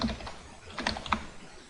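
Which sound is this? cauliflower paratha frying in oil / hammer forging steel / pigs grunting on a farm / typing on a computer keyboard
typing on a computer keyboard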